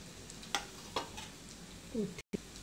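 Soft, faint scrapes of a spoon stirring kande pohe ingredients (turmeric, sugar, grated fresh coconut, fried peanuts) in a pan, with a few separate strokes over a low background.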